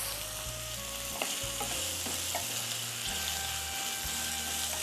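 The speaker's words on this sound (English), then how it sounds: "we'll keep sauteing the onions until nice and golden" Onions sautéing in a pan until golden, with a continuous close sizzle and occasional light scrapes of stirring.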